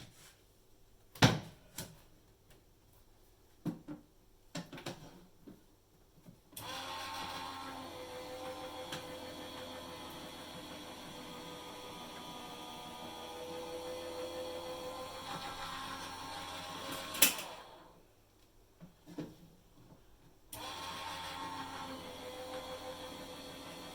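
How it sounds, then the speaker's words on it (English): A die cutting and embossing machine runs with a steady mechanical hum for several seconds, set between quiet handling knocks and clicks; it stops briefly, then starts up again. "I'm going to take this over to my die cutting machine."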